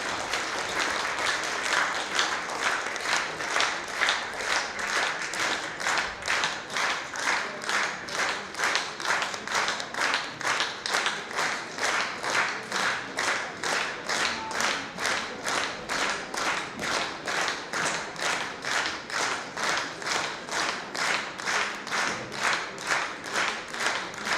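At a Bashkortostan young performers' native-language contest concert, a crowd applauds in steady rhythmic unison claps, loud and sustained for over twenty seconds, with no talking.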